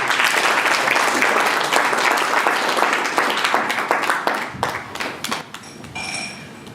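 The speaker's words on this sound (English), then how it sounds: "Let's clap for her as she comes to sit in her place" A seminar audience applauds, dense close clapping that holds steady, then thins into scattered individual claps and fades out.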